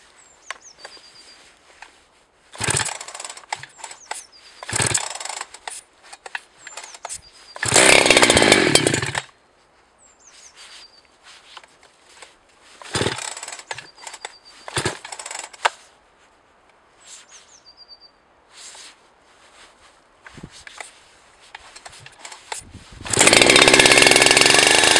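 A Jonsered 2065 chainsaw, roughly 71.5 cc, idles and revs in repeated bursts while cutting wood, with loud close full-throttle runs between quieter idling stretches and a long final burst at the end.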